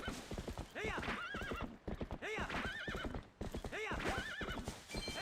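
Horse hooves clip-clop in a fast gallop through a Twilight Princess HD video game session, with repeated loud whinnies and neighs rising over the hoofbeats and some game voice sounds mixed in.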